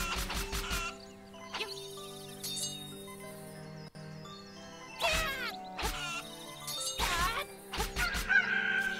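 Synthesized chicken clucks and a rooster-like crow from the Switch remake of The Legend of Zelda: Link's Awakening, in repeated bursts over looping game music, with no talking.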